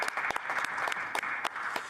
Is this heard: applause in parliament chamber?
yes